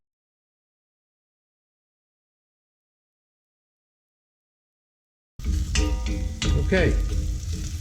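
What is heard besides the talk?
garlic sizzling in a pan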